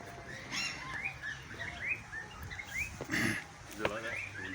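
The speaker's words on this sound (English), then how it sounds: "There's some budgies on the ground there." Budgies on the ground give quick, bright chirps and twitters in a scattered series, close and fairly clear, with some rustling and a low background voice.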